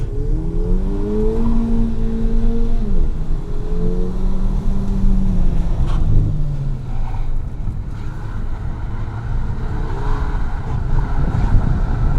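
A low-horsepower Volkswagen GTI accelerates through an autocross course, its engine drone rising and dipping between shifts and turns under constant wind and road roar heard from inside the car.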